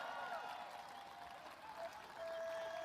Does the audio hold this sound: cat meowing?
no